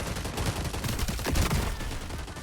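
Dense, continuous rapid gunfire from a first-person shooter video game, loud and close, with overlapping shots forming a steady burst for the whole stretch.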